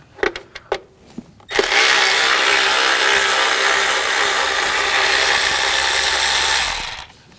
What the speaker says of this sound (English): Use a T25 socket. Take this screw out.